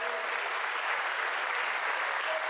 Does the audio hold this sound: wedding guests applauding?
yes